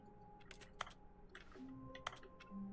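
Rapid keyboard clicking from The Stanley Parable, irregular bursts of sharp taps with short pauses, close and fairly quiet over a faint background hum.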